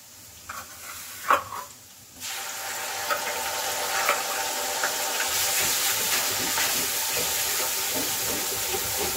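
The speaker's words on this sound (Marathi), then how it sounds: "आता हे लसूण जिऱ्याची पेस्ट झाल्यानंतर आपल्याला कांदा खोबरं भाजून घेतलेला मसाला टाकायचा आहे." Roasted onion-coconut masala added to garlic-cumin paste and fried in a pan: a few scattered clinks, then a loud, steady sizzle that holds to the end.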